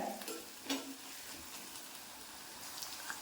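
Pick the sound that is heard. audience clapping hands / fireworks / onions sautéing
onions sautéing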